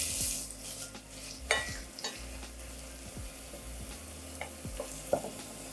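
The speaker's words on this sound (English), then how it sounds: "we're gonna throw in this whole stem of basil, leaves and all. We'll pull the stem out later, but the leaves and the stem are gonna fry up nice" Garlic and a whole basil stem with its leaves fry gently in oil in a pan for a pizza burger, a soft, steady sizzle broken by a few metal stirring clinks and scrapes.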